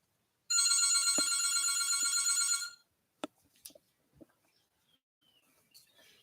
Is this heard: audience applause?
no